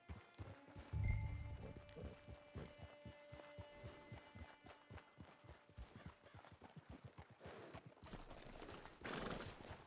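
Video-game horse hooves in Red Dead Redemption 2 clip-clop at a steady walking rhythm, close and fairly loud, with a short burst of rustling near the end.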